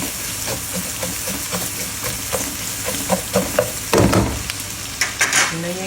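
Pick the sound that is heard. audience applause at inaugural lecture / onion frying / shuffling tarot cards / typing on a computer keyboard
onion frying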